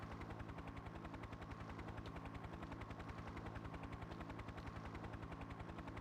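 In a 3DO helicopter video game, a steady rapid rotor chop blends with continuous gunfire bursts, forming a dense, unbroken mechanical rattle at moderate level with no voices.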